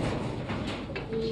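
Pigeons in a pigeon loft cooing softly, a few low murmuring coos close by against a dull background.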